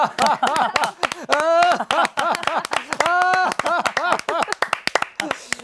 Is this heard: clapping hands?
yes